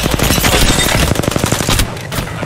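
Rapid automatic gunfire in the video game Apex Legends, a loud close burst of evenly spaced shots lasting nearly two seconds before cutting off.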